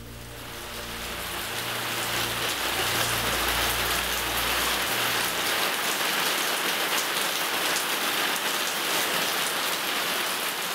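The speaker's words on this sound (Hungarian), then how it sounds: "A mákvirágoknak sem tesz jót már ennyi eső." Heavy rain pours down steadily on a garden of poppy plants, a dense, loud hiss of drops on leaves and surfaces that swells in the first seconds and then holds constant, with a low hum fading out partway through.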